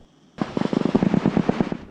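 Cannon fire at a military exercise on a beach: a loud, rapid burst of booms erupts suddenly and continues in a dense, rhythmic volley, heavy and close.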